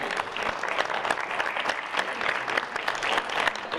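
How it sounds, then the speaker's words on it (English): An audience at a school foundation hall of fame ceremony claps in steady, dense applause that holds evenly throughout, with no break and no other voices. "You give them a round of applause for their help"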